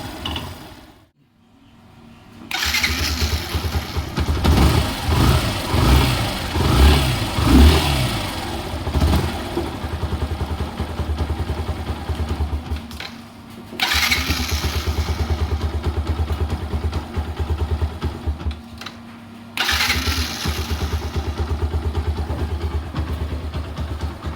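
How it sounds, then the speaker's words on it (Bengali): A repaired Yamaha SZ RR motorcycle engine runs close by, idling then revving in bursts with a rough mechanical rattle, the sound cutting out briefly twice between steady running stretches. "এইবারে কিন্তু এই ইঞ্জিনের সাউন্ডটা কাজ করার পর কেমন চেঞ্জ হয়ে গেছে সেটাই শোনো এবারে তোমরা"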